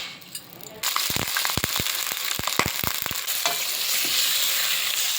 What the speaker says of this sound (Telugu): ఒక బాండ్లీ పెట్టుకొని ఆయిల్ వేసుకున్నాము. హీట్ ఎక్కింది. ఇప్పుడు మనం చికెన్ వేసుకోవాలి.